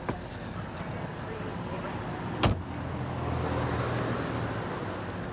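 A car engine idles steadily at a police traffic stop, a constant low rumble with one sharp knock partway through, close by.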